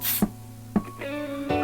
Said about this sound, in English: I'm also going to try this Wig Dealer melting spray that my sister bought.